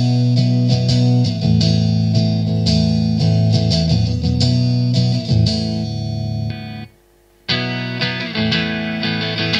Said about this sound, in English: You get the sparkle, you get the kind of sizzle of an acoustic guitar.